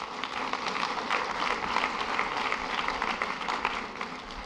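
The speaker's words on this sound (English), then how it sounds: "Let's give Peter a quick round of applause." A seminar audience gives a short round of applause, an even, continuous patter of many hands clapping throughout, fairly loud and without talk.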